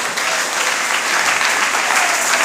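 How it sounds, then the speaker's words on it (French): A church congregation applauding for the Lord during a worship service: steady, dense, loud applause from a crowd that fills the whole moment without a break. "Est-ce qu'on peut acclamer pour le Seigneur?"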